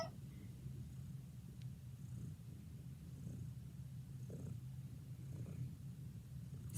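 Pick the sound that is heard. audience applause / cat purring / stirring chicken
cat purring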